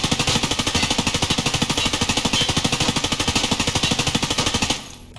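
Sustained automatic fire from an M4 rifle in Escape from Tarkov, a rapid, even stream of loud close shots lasting about five seconds before cutting off, with no talking.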